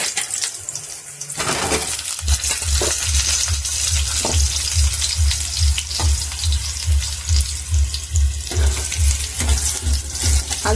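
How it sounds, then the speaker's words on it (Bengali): Potato pieces fry in hot oil in a pan for a fish curry, a loud, continuous sizzle with rhythmic scraping and stirring strokes pulsing through it, close up and without speech. "আলুটা একটু লাল করে ভাজবো।"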